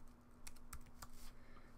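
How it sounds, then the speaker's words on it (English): Quick keystrokes on a computer keyboard, a few light clicks spaced over a couple of seconds, quiet and close with no talking. "So let's go ahead and type refund policy."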